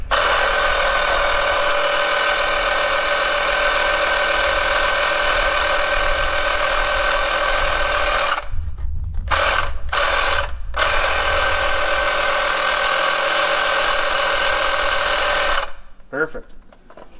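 An Audew portable air compressor pumps up a tyre with a loud, steady buzzing drone, cutting out briefly several times before stopping near the end, with a voice speaking over it.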